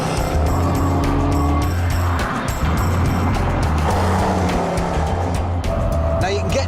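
Range Rover Sport with a 503 bhp supercharged petrol V8 lapping Donington Park racetrack, its engine roaring loud and steady with shifting tones and tire squeal, heard continuously up close with no pauses.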